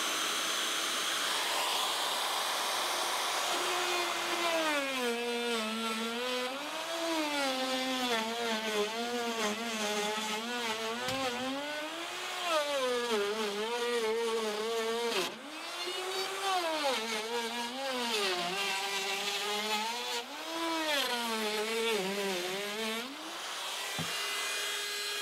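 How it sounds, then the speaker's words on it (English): An electric drill with a dull bit grinds through a shed wall panel while framing a door opening, its motor whining and rising and falling in pitch as the load changes, loud and continuous throughout. "this drill is plenty powerful enough to run anything through"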